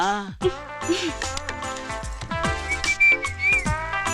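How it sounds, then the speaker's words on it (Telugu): Whistles ring out in a comedy film scene set in an exam hall, bright and fairly loud, repeating over a busy background of music and other sounds. "అలా విజిల్ కూడా వేయకూడదు తల్లి"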